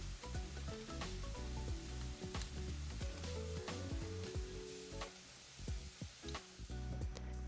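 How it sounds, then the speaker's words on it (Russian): Mushrooms fry in a pan with a quiet, continuous sizzle and occasional crackles and utensil clinks, with no talking. "Пока жарятся грибы"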